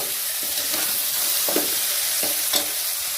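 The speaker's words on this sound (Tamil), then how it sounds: "ஸோ இப்போ இது எல்லாம் ஒன்று சேர்கிற மாதிரி நல்லா கலரி விட்டுப்போம்." Long beans stirred into a rice mixture in a pot for a one-pot long bean rice, a spoon scraping softly in a few short strokes over a steady low sizzle, close and fairly quiet with no talk.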